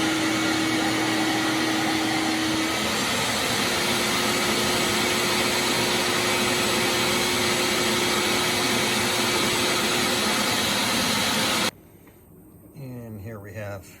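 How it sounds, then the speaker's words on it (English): A vacuum forming machine runs while making arcade helicopter body shells for a Midway Chopper restoration, giving a loud, steady, roaring suction drone that cuts off abruptly near the end, leaving quieter shop noise behind. "So ready to move on to do the vacuum forms, and hopefully they turn out the way they should."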